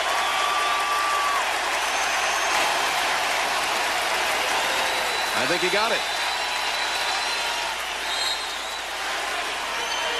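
A basketball arena crowd at a Pistons vs Pacers playoff game keeps up a loud, continuous roar under play-by-play commentary, with a broadcaster talking over it.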